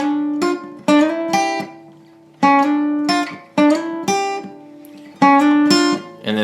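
Plucked electric guitar notes from a song played alone in short phrases, pitches sliding up the fretboard between some notes, with pauses separating groups.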